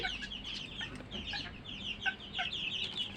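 Desi hens on a small Fayoumi and desi chicken farm cluck and chatter at moderate distance, repeated short calls overlapping in a quiet pen with no talking.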